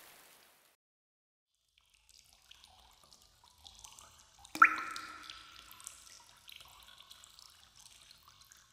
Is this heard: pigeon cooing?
no